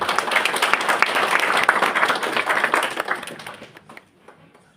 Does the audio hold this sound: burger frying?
no